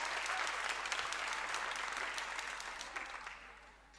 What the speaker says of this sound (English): Big round of applause for the officials.